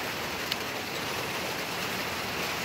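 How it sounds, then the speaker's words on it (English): Rain pours down outdoors as a steady, dense hiss that runs unbroken, fairly loud and close, with no voices. "Oh, fucking rain."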